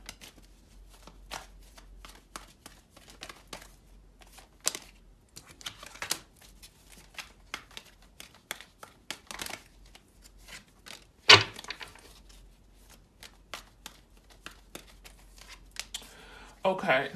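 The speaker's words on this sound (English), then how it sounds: "let's get a few cards out." Tarot cards are shuffled and drawn by hand, soft close riffling and flicking with scattered taps and one sharper slap, while a voice talks quietly at times.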